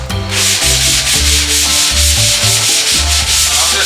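Loud, close sanding blocks rasp back and forth across an Oldsmobile Cutlass Supreme body panel during restoration, the strokes coming quickly in a rough, repeating rhythm.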